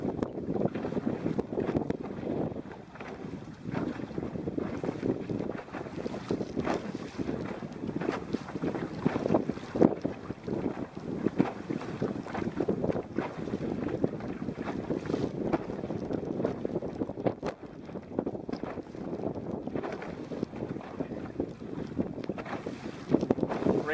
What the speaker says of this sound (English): Rain is now whipping into my face and the boat.